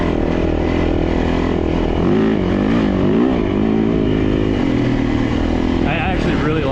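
Four-stroke dirt bike engine running steadily and loud for the whole stretch, a throaty mechanical drone with slight revving swells, while someone talks over it.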